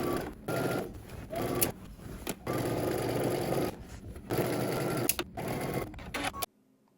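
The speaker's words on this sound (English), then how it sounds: "we're going to head to the sewing machine starting at the hem" A sewing machine stitches the side seam of a pair of pants, working up from the hem with a 5/8-inch seam allowance. It makes steady whirring runs broken by short pauses, close and alone.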